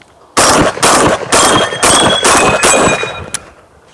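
A Huglu Veyron semi-automatic shotgun fires about six loud, close shots in quick succession, roughly half a second apart, each a sharp blast with a short ringing tail.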